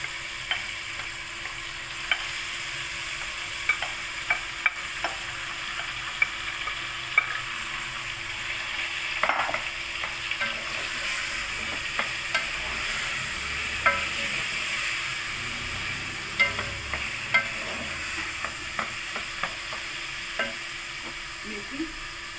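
Mashed carrots frying with fried garlic in a pan, a steady sizzling hiss with scattered spoon taps and scrapes from stirring, close and fairly quiet, without talking.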